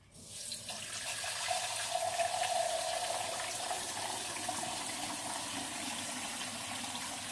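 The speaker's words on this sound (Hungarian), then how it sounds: "Ezt az edényt érdemes előtte forró vízbe egy picit kiöblíteni, és forró vizet egy darabig benne hagyni" Hot water runs steadily from a tap into a vessel being rinsed in a kitchen, a continuous close hiss and splash that starts abruptly and holds at an even level.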